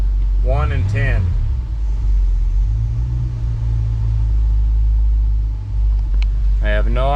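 A 1966 Mustang fitted with Sniper EFI idles with a deep, steady low rumble close by, while someone talks briefly over it at the start and again at the end.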